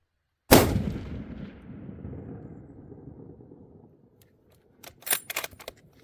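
A single loud rifle shot cracks out during a deer and elk hunt in Idaho, its boom rolling and decaying over several seconds, followed by a few sharp clicks and rattles like a rifle bolt being worked.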